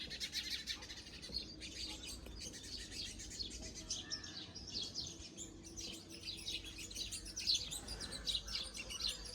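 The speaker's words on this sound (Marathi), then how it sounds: "आमच्या निमोनीच्या झाडावरती खूप पक्षी बसले चिमण्या बसल्या सगळ्या चिवचिव करता" Many sparrows perched in a neem tree on a morning near a pomegranate orchard chirp in a dense, continuous chorus of overlapping quick tweets, fairly soft and slightly distant.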